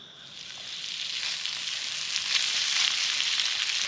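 Fatty bacon sizzles steadily in a squirrel cooker over a campfire, a dense continuous crackle that swells slightly louder toward the end, heard close with no talk.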